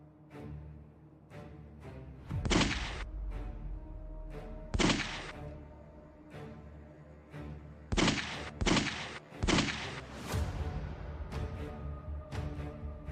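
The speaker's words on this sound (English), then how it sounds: "They're under heavy fire." Gunfire between robbers and police: several loud, close shots and short volleys ring out at irregular intervals, with quieter pops scattered between them.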